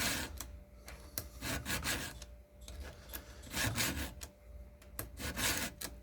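A chainsaw chain is sharpened by hand with a file, a rhythmic series of raspy scraping strokes, close and moderately quiet, with no talking.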